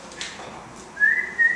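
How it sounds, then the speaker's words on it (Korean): A person whistles with the mouth, producing a steady sustained pitch held for about half a second, then a second short tone, close and fairly loud over faint room noise. "또 하나는 휘파람입니다."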